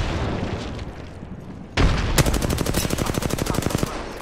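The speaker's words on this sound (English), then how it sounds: "Opening fire on the enemy." Rapid automatic gunfire in a battle royale shooter game, a sudden loud burst followed by a steady stream of evenly spaced shots lasting a couple of seconds.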